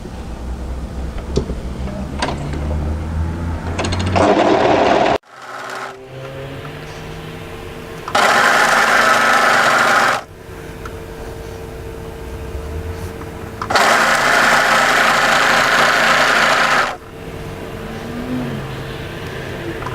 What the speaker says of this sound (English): So what we're going to do is just overlock through that long seam.